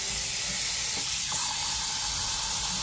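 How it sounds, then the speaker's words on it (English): Tap water gushes into a cooking pot, a steady, loud hissing rush that stays constant throughout, close by and alone. "So now I'm going to fill up this pot and let it boil."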